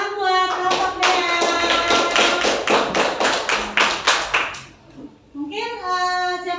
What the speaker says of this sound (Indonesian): Tepuk tangan buat kelompok Dea.